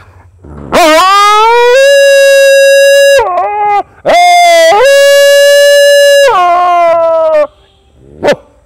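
A voice imitates a dog howling: two long, loud, drawn-out wavering howls, followed by a brief yelp at the end.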